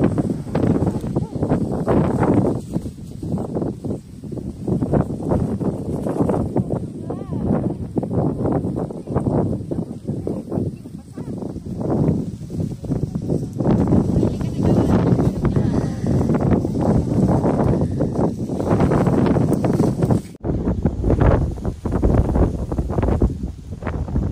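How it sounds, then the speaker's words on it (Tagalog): Strong, gusty wind buffets the microphone throughout, a continuous roar with people talking underneath, on a mountainside at Giant Stone Rock River, Sai Kung. "Tapos mahangin pa."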